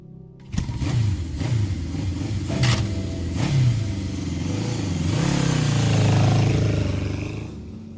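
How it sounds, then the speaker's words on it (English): Car engine in a dramatized audio story effect, growling up loudly and revving as the vehicle pulls away and drives off into the night, a sustained rising and falling engine roar lasting several seconds without speech. "The engine growls. He turns and drives off into the night"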